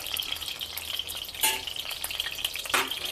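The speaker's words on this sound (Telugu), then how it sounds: "ఈ ఉల్లిపాయలే మెయిన్ అంటే ఇంకేమీ వేయం కాబట్టి వాటిని జాగ్రత్తగా వేయించుకొని తీసి పక్కన పెట్టుకోవాలి" Onions fry in hot oil for uppindi, a steady bright sizzle with a couple of louder crackling bursts and light stirring, close and without talk.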